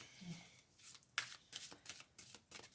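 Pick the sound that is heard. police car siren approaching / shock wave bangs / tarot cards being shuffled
tarot cards being shuffled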